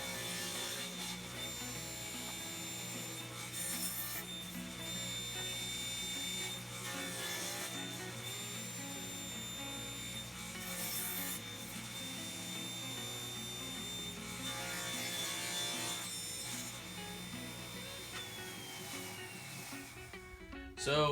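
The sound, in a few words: saw crosscutting wood on a crosscut sled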